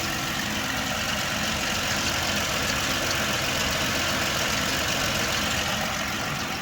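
The 4.0 engine of a 2006 Ford Explorer idles steadily, a constant close rumble with a dense even hum and no talking.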